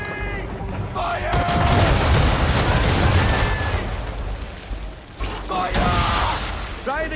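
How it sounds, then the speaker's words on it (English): Cannon broadside fire from a sailing warship in Assassin's Creed 3: heavy booming volleys and rumbling blasts crowd together over several seconds, with shouted voices in between. "aim all guns at her bow and do as much damage as possible. Ready! Fire!"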